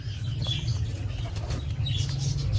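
Pigeons' wings flapping in a fluttering burst close by, with faint chirps and soft cooing birds in the background.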